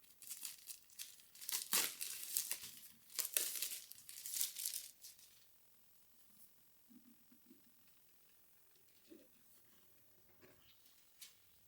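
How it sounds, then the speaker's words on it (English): Thin plastic film is peeled and crinkled off the box of a Sigma 18-50mm F2.8 lens for Sony. Close, irregular rustling and crackling bursts last about five seconds, then give way to faint scattered handling noises in a quiet room. "it comes covered by a thin plastic film, which you are about to remove now"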